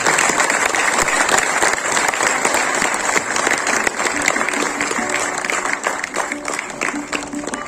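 A large audience at a lifetime achievement award ceremony honouring an actor claps loudly and steadily, a dense, sustained roar of applause filling the hall for the whole stretch.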